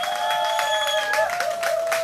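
Steady applause from a concert audience at a candlelight rally in Seongju after a singer's performance, dense clapping over a sustained tonal musical hum.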